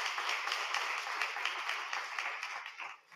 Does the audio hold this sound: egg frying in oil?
no